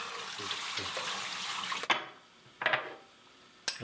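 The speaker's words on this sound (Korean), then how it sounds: "잠시 쉴 틈도 없이 또 설거지를 시작합니다." Dishes are washed at a home kitchen sink with running water, a close steady rush of tap water that cuts off abruptly, followed by short bursts of water and clattering dishes.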